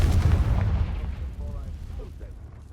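A Confringo blasting spell going off in Hogwarts Legacy, a loud booming explosion at the start that rumbles and fades over a couple of seconds.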